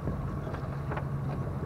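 A fishing boat's engine runs steadily out on the water, a continuous low droning hum with faint wind noise over it and no voices.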